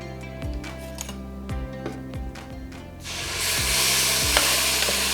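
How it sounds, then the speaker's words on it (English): A blended spice mixture sautés in hot oil in a pan for chicken rendang, starting with several sharp stirring clacks against the pan and then swelling into a loud, continuous sizzle that fills the last seconds. "You can hear the sizzling sound."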